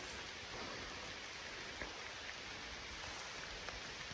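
Steady rain falls across an outdoor hunting area during a Utah archery elk hunt, a dense continuous hiss with a few louder drops tapping nearby, no voices.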